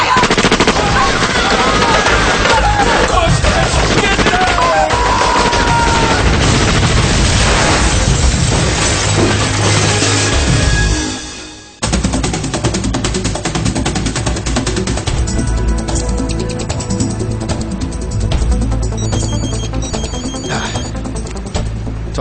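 Dramatized gunfire and explosions in a tense battle scene: dense machine-gun bursts and booming blasts fill the first half, cut off abruptly, then rapid crackling shots continue loud under occasional voices.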